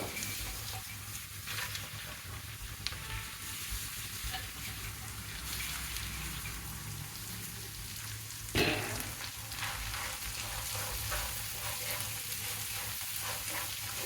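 Finely chopped chukka kura (sorrel leaves) frying in a pan with curry leaves, a steady close sizzle throughout with a sharp burst of hissing as more goes in partway.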